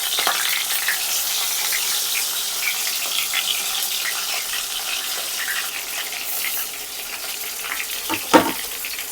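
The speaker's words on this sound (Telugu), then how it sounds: "ఇప్పుడు నూనె అయితే కాగిపోయిందండి, మనం వంకాయలు అయితే వేసేసుకుందాము" Brinjals (eggplants) frying in hot oil for Andhra-style stuffed eggplant, a steady close sizzle with faint clinks of a utensil and a brief louder clatter near the end.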